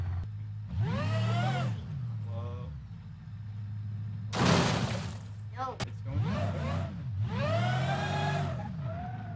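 Car crash in a racing video game: engine drone and tire screeches, then a sudden loud burst of impact noise midway, followed by more revving and skidding.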